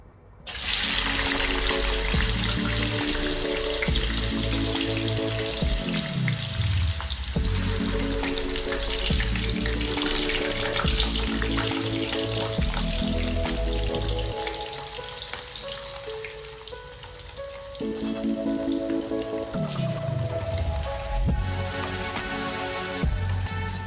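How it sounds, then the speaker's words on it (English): Yam chips frying in hot oil in a home kitchen, a steady, dense sizzle that runs for the whole stretch and dips briefly partway through, with no talking. "Now you set your oil on fire and start to fry."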